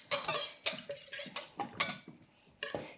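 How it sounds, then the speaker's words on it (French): A utensil stirs poolish dough mixture in a bowl, producing a series of sharp, close clinks and scrapes in an irregular rhythm with brief gaps between strokes. "On remue légèrement."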